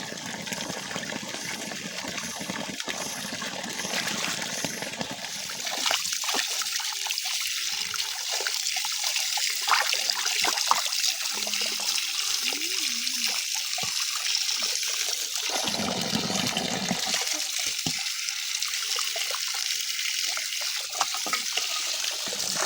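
Water runs steadily from a tap while Chinese cabbage is washed outdoors on a farm, a continuous close splashing hiss with intermittent sloshing and dribbling as the leaves are handled.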